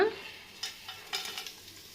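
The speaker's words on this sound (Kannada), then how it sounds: "ಇವಾಗ ಇಷ್ಟು ಪದಾರ್ಥನ ನಾವು ಎಣ್ಣೆಗೆ ಆ್ಯಡ್ ಮಾಡ್ಕೊಳ್ಳೋಣ" Whole cinnamon, cloves, star anise and cashews drop into hot oil for mentya pulao, giving a faint sizzle with a few soft spoon clinks against the pan, quiet and close.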